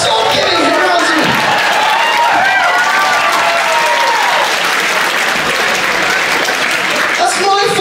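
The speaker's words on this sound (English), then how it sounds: "Two rounds of applause you've got." Loud, sustained applause from a comedy club audience, dense clapping filling the room for several seconds, with shouts and cheers mixed in and a few voices rising above the crowd near the end.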